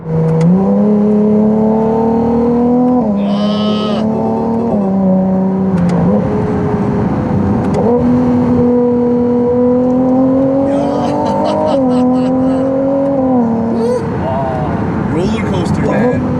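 Ferrari V6 hybrid sports car driven in performance mode, engine revving and rising through gears with repeated climbs and shifts, heard from inside the cabin with people talking over it.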